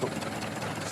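An antique Model T Ford's engine idles after the revs are reduced, a close, steady, rough low rumble with a faint knocking texture.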